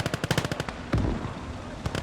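Machine-gun bursts in a WWII video game battle set during a heavy German mechanized offensive: rapid close volleys for the first half, then a heavy boom and rumble, followed by another sharp shot near the end.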